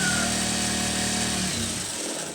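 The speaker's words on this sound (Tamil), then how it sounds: "இந்த மாதிரி இதை வச்சு இதில் ஒரு தையல் போட்டுருங்க." A sewing machine stitches a lining blouse in a steady, close mechanical whir that eases slightly toward the end, with no talk.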